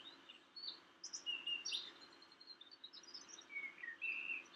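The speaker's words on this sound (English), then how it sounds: "The birds are so loud today." Several birds chirp and sing in quick, overlapping bursts outside an open window, bright high notes at moderate distance over a quiet background.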